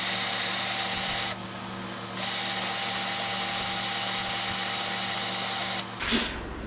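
A high-pitched power drill whines loudly in two long bursts with a short pause between, then stops near the end.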